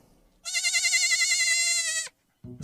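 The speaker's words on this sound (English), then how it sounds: "The royal princes also had a billy goat as a pet." A billy goat bleats loudly and up close in one long, wavering call lasting about a second and a half, followed by a short pause and a brief low sound.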